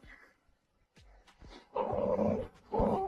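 A small, round, chubby dog gives short, low growls in uneven bursts, fairly quiet and close, with brief gaps of near silence between them.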